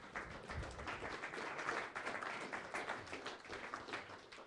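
A crowd at a public-land discussion event applauds, a dense, continuous patter of many hands clapping at moderate volume, sounding somewhat distant and roomy throughout.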